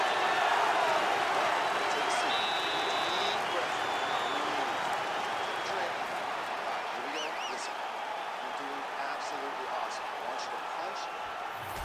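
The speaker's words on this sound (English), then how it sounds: "The crowd's going crazy because they just saw two high-level grapplers mix it up on the ground" At an MMA fight between Miesha Tate and Mackenzie Dern, the arena crowd roars and claps in a broad sustained wash. It fades slightly over the stretch while voices speak over it.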